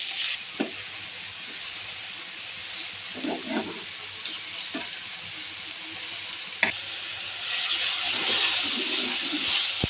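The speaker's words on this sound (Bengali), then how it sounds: "শোল মাছগুলি হালকা ভাজা দিবেন।" Snakehead fish sizzles steadily in hot oil, with a few soft clinks and stirring sounds and the frying growing louder toward the end.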